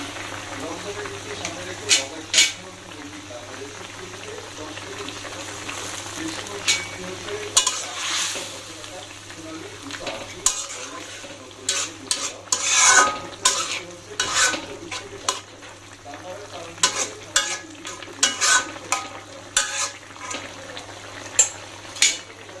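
A curry cooking in a pan with fish and chopped coriander, repeated stirring scrapes and utensil clinks over a soft sizzle, close, with talking in the background at times.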